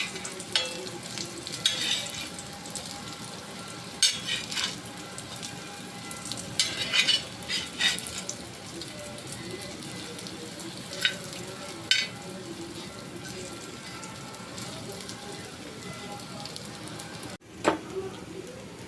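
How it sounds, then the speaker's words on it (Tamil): Vegetable cutlets shallow frying in a little oil on a hot tawa, giving a steady close sizzle with occasional scraping and turning sounds. "தவா சூடானதும் நான் ஷாலோ ஃப்ரை தான் பண்ண போகிறேன்."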